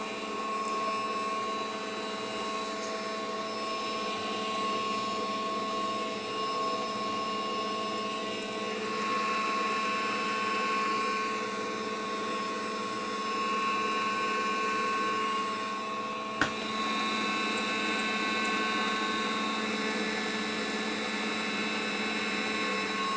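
An electric stand mixer whips marshmallow mixture of egg whites, cooked sugar and gelatine, a steady whirring motor drone running continuously with a single sharp knock partway through, no voices.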